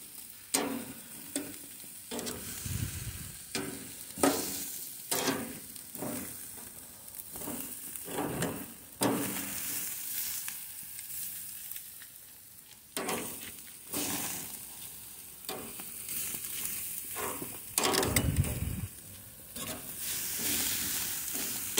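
Corn frying in a pan, with steady sizzling and repeated scraping stirs and taps throughout, moderately close.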